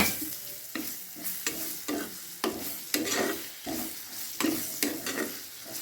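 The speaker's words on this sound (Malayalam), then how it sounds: "ഒരു തക്കാളി ഇട്ടിട്ട് നന്നായിട്ട് മിക്സ് ചെയ്യാം" Tomato being stirred and fried in a pan for an egg dish, with a rhythmic series of scraping stirs about once a second over a continuous sizzle, close and moderately loud.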